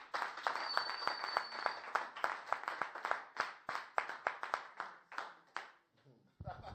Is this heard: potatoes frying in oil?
no